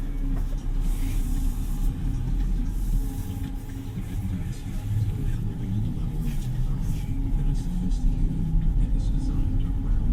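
Interior of a Hyundai IONIQ 6 GLS electric car pulling away and driving, with a steady low road rumble and tyre noise throughout, fairly loud and even, with no other sounds standing out.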